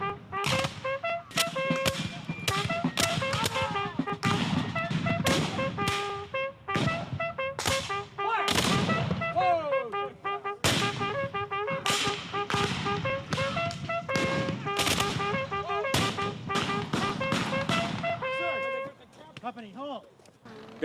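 Civil War reenactors fire muskets in a skirmish, a long run of sharp, echoing shots close by, some single and some overlapping, in an irregular ragged rhythm with shouting voices in between.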